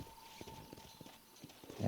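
Horse hooves in the Red Dead Redemption video game, a fast, quiet clip-clop of rhythmic hoofbeats lasting under two seconds, with a faint steady tone behind it.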